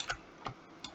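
Light plastic clicks from a computer mouse during 3D UV mapping work: a few quiet, sharp taps spaced through a second, two of them close together like a double click, in a quiet room.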